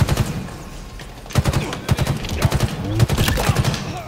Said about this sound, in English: We are getting shot.